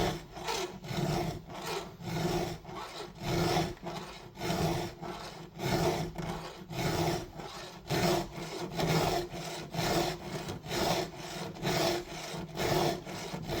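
A hand file stroking across a chainsaw chain's cutting tooth, a rhythmic rasping of regular back-and-forth strokes about twice a second, close and steady with no speech.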